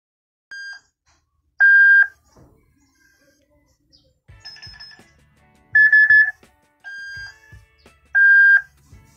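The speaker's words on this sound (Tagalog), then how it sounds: "Try natin yung alarm." A CCTV camera's electronic alarm beeps in short, high-pitched bursts, repeating several times with brief pauses, alongside faint clicks and handling noises.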